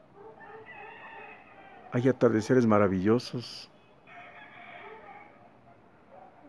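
A rooster crows once at sunset on an August evening, a loud, drawn-out call that rises and falls over about a second and a half. A person speaks softly before and after the crow.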